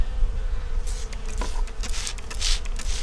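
Many honeybees buzz in a steady drone close by at a small nucleus hive, with occasional louder passes and brief rustles, under low wind rumble in wet weather.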